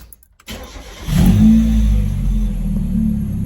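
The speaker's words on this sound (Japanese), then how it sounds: "それではまずエンジンをかけます" A Mazda NA Roadster engine cranks and catches, then settles into a steady, close low rumble at idle.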